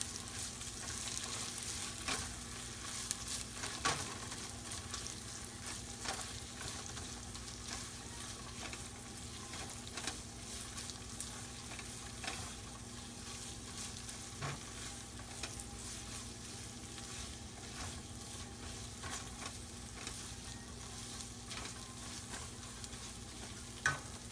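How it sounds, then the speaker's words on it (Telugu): Ginger garlic paste fries in hot oil for Hyderabad egg biryani, a constant close sizzle with periodic scraping stirs of a spoon against the pan, no voices. "ఇప్పుడు అల్లం వెల్లుల్లి పేస్ట్ వేయాలి దీన్ని కొంచెం పచ్చివాసన పోయే వరకు వేయించాలి"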